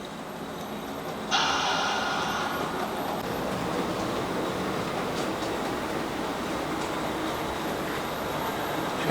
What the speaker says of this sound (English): Just trying to get these coaches past before the other train comes